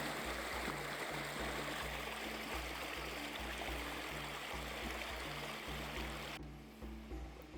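Water flows and trickles over the white travertine terraces of the Pamukkale thermal pools in Turkey, a steady close rushing babble with no one speaking, fading softer near the end.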